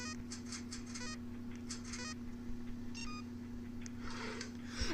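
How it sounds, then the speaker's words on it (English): Rapid electronic beeps in quick clusters repeat over a steady low hum, the tones chirping in short bursts every second or so. "Where's the beeping coming from?"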